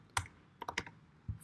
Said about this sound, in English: Now I'm going to be showing you how do you loop through the file. So for that, you just have to type